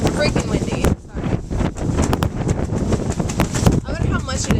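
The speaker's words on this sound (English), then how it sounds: "It's extremely fucking windy." Strong gusty wind buffets the microphone outdoors near boats on the water, a loud rumbling roar that swells and drops throughout while people talk over it.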